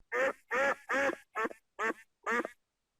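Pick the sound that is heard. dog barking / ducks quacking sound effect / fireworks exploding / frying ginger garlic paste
ducks quacking sound effect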